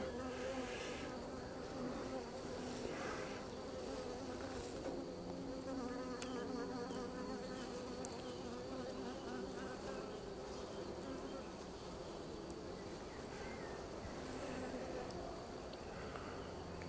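Honey bees buzz steadily at an open hive during a queen check, a dense continuous drone with a few louder close passes, with quiet speech now and then.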